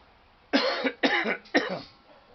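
Three harsh coughs in quick succession, close and loud, with short pauses between them.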